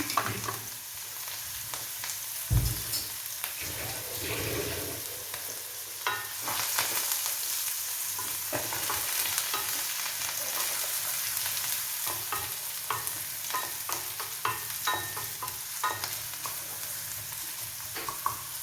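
Bird's eye chillies and curry leaves fry in oil in a pan with a continuous close sizzle, broken by occasional stirring scrapes and clicks, steady throughout.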